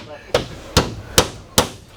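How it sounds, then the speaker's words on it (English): Hammer blows land one after another, five sharp loud strikes at an even, unhurried pace with short quiet gaps between them. "Instead, we're swinging hammers and working electric drills."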